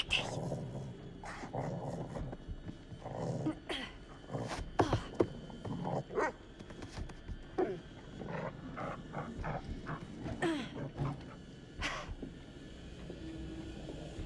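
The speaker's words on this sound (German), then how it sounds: "Alter Hund, bitte sei ruhig." A dog in the horror video game The Devil In Me barks and growls in repeated sharp bursts with short gaps, fairly close, over a quiet ambient background with almost no talk.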